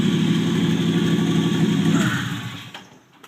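A 1949 Chevrolet Deluxe four-door idles steadily just after its first start, a low, even rumble heard up close with no talk, dropping away and going quiet in the final half second.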